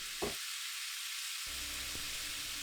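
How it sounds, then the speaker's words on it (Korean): Soy sauce poured straight onto a hot pan beside pushed-aside vegetables in a squid stir-fry, giving a short sharp sizzle burst, then a steady frying hiss that fades back in after a brief gap. "야채를 한쪽으로 밀고 간장 1큰술을 팬에 직접 닿도록 넣어요."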